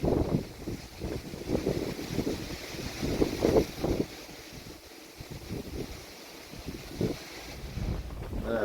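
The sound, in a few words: strong hurricane wind outdoors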